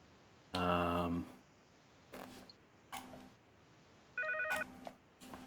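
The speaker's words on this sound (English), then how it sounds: "I hear a phone." A telephone rings faintly in the background with a short trill, followed by several soft clicks and creaks and a second brief electronic ring, all quiet and distant.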